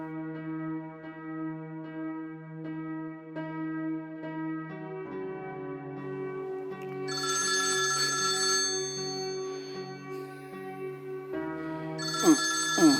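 A phone rings with a melodic ringtone while a call is placed, a looping tuneful chime that repeats steadily for several seconds, clear and moderately loud with no talking.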